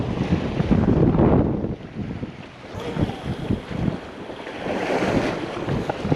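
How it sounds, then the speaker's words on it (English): Strong wind buffets the microphone on a beach during surf fishing, with waves breaking and washing ashore in loud, surging bursts and no voices. "Now it is windy"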